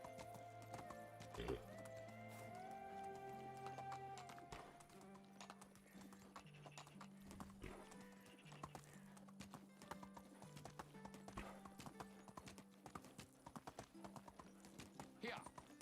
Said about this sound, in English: why is my horse going so slow?